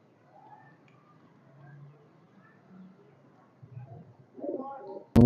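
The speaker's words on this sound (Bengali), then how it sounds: "এই জোড়া হচ্ছে ইন্ডিয়ান বেনারস কবুতর" A pair of Indian Benaras pigeons coo softly in low, rounded murmurs, faint and close, with a louder burst of cooing near the end before a sharp noise cuts in.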